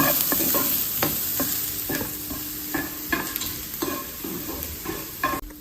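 Onions frying with a pinch of salt in a pan, a steady sizzle broken by repeated scraping strokes of a spoon stirring through them at close range, with no voices.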